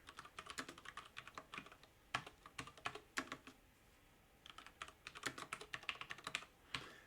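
Keys clatter on a computer keyboard as test code is typed, in quick bursts of close, crisp clicks separated by short pauses, with no talking.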